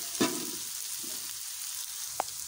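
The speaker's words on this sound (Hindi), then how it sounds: "अब देख सकते हैं मैं इसमें ऑनियन डाल चुकी हूँ, बस इसे फ्राई कर रही हूँ।" Onions frying in a pan for veg chowmein give a steady, faint hiss with a couple of brief stir clinks, no voices.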